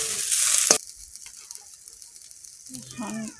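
Puti fish with onion sizzles loudly in a frying pan for under a second, then drops to a faint background while a voice speaks briefly at the end.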